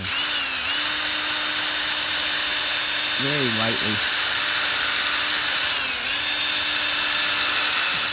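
A steady high-pitched whine of a power drill running continuously with a gritty sanding hiss as it sands a car headlamp lens, while someone speaks briefly over it.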